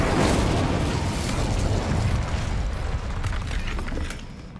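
A fiery burst from the Incendio fire spell in Hogwarts Legacy, a loud roaring whoosh that sustains for several seconds, then fades slightly at the end, with no talking.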